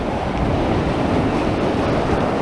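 Sea waves and surf wash beneath a pier in a steady, dense roar with wind buffeting the microphone, loud and continuous throughout.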